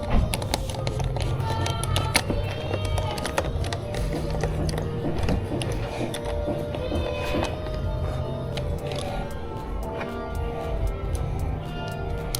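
Screws are driven back into plastic trim on an MG5 car during air and cabin filter replacement, giving a steady run of small ratcheting clicks and mechanical ticks close by, with no one talking.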